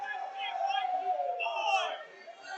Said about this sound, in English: And we hear the crowd booing